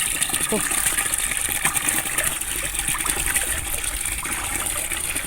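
Water poured onto a banana tree, a steady loud gushing and splashing that runs throughout, with outdoor background noise and faint voices in the distance.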